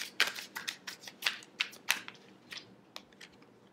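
Tarot cards are shuffled and drawn during an Aries reading, producing a quick run of crisp, close card snaps and flicks that thin out to a few soft taps.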